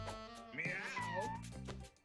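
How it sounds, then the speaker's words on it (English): Cats meowing in a cat-breeding video game, a clear, fairly loud mewing call of about two seconds with rising and falling pitch, heard alongside game music or sound effects. "either Orange or Katarina is spawning cats with terrible stats"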